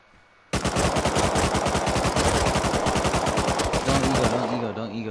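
A submachine gun fires a long, rapid, loud burst in the Rust video game, the rhythmic shots running steadily for several seconds before cutting off, with faint game sounds trailing after.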